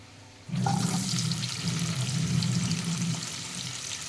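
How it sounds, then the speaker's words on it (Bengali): Chopped onions hit hot oil in a wok, setting off a loud, steady sizzle that starts abruptly and keeps crackling without a break, close up and alone with no talk. "এবার ওই কড়াইতে আমি তেল দিয়ে দিয়েছি আর একটু। এবার দিয়ে দেব কেটে রাখা পেঁয়াজ"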